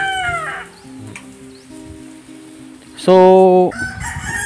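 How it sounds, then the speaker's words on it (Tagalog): Hybrid chickens and a rooster at a hilltop farm in Leyte: soft clucking and rustling under a brief spoken word, then a loud, close crow in the second half. "Na say mga manok dia guys."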